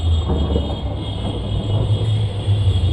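Thunder from a lightning storm rumbles as a loud, steady low roar that fills the whole moment without a break.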